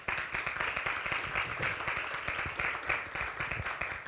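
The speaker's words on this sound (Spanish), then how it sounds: "Yo creo que todas esas acciones se merecen un fuerte aplauso." An audience at a corporate report presentation gives strong, sustained applause, individual claps distinct within the dense, steady clatter of many hands.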